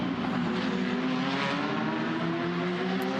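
GT3 race cars, a sea of Audis and a Cup car, roaring at speed around the Adelaide street circuit during a GT World Challenge Australia race, a loud sustained engine drone with no break.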